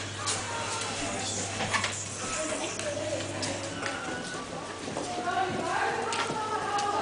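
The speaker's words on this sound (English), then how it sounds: "we can watch your children ride horses" Horses walking at a horse farm with a riding hall, hooves clip-clopping in scattered light taps beneath steady background hum, birds and faint voices nearby.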